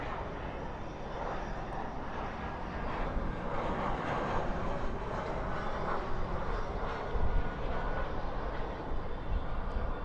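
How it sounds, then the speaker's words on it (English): Airbus A319 arriving at Dallas/Fort Worth airport at night, a steady broadband jet roar, fairly distant and sustained, swelling slightly toward the end with no clear talk over it. "We have an arrival. Another Airbus A319."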